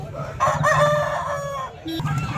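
A rooster at a busy Sunday chicken market in Vijayawada lets out a loud, close crow with a rising then trailing call, with softer clucks and market murmur around it.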